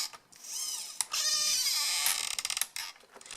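Worn Hi-Tec servo in a Traxxas Rustler RC car, whining and creaking in short grinding sweeps, then a quick run of rapid ratcheting clicks, close and fairly quiet, with no talking.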